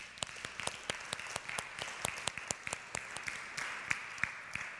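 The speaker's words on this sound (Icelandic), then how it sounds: "Mér finnst að við verðum að gefa henni gott klapp henni Áslaugu" A church congregation applauds a singer during an evening service, a moderate crowd clapping steadily with distinct individual claps standing out.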